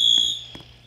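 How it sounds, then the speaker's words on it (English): A fire alarm tone sounds in the Roblox game ERLC, a steady high electronic beep that is loud at first, then fades under faint clicks and game noise. "you pulled that alarm right there"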